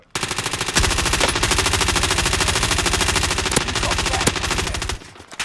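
Rapid machine gun fire from a shooter video game, a loud, continuous stream of evenly spaced shots lasting several seconds, cutting off near the end.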